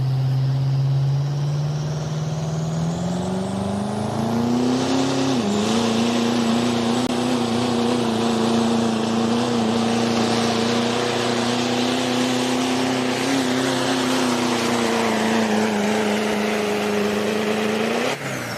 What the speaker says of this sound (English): The Mighty Max. Duramax power plant under the hood.